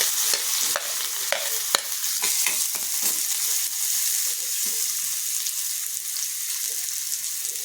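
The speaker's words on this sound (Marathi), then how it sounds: "तेल हिंग मोहरी जिरं बारीक चिरलेला कांदा टाकायचा आहे" Chopped onion, asafoetida, mustard seeds and cumin sizzle in hot oil, a bright continuous crackle with several quick spoon taps early, then steady frying alone.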